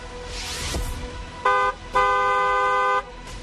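A car horn honks twice, a short beep followed by a longer blast, over low road noise.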